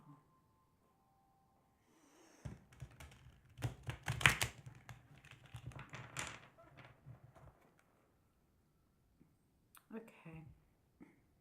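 Soft riffling and rustling of tarot cards being shuffled in bursts at close range, interspersed with brief quiet gaps and some breathing.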